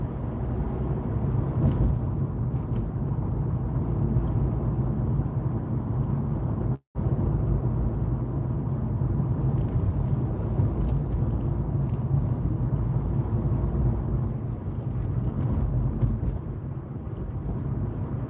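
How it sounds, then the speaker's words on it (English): Steady low road rumble from inside a car driving a hilly UK route at dusk, with oncoming traffic passing in the opposite direction, continuous and fairly loud, broken by one abrupt momentary dropout. "A lot of traffic coming the other way, which is back to normal really"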